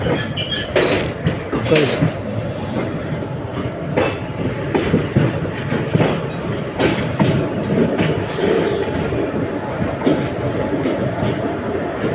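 Train pulling into platform one at Palakkad Junction, a steady rumble with rail clatter and intermittent clicks at close range, under people talking around the platform.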